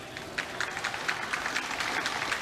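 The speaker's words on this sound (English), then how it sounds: "His supporters at one end of Downing Street applauding loudly." Supporters gathered at one end of Downing Street applaud a new Prime Minister, giving continuous outdoor clapping with some sharper individual claps standing out, heard from a moderate distance.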